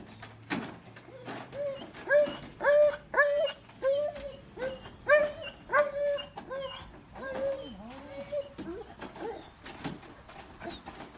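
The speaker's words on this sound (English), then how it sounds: "He likes to bark at dogs walking past" A pet dog barks repeatedly at close range in a house yard, a run of sharp, rhythmic barks with brief whimpering tones, loud and steady over several seconds.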